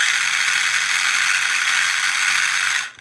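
Small RC motor spinning under a cheap RC electronic speed controller, a loud steady high-pitched whine with a rattly mechanical texture that holds for about three seconds, then winds down quickly.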